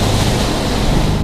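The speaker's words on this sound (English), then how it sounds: "Take a look at the waves crashing inside this home in North Topsail Beach." Storm surge from Hurricane Florence surging through a beach house in North Topsail Beach, a loud continuous roar of crashing water and wind filling the whole moment.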